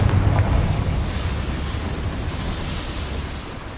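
The Confringo fire spell from Hogwarts Legacy bursts with a loud, roaring blast that hits hardest at the start, then trails off into a long rushing wash of fiery rumble.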